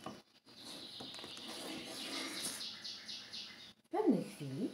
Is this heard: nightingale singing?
yes